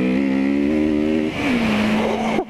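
Kawasaki Z650 motorcycle engine revs up close and loud, holding a steady high note, dropping back, then settling before a sharp cut at the end.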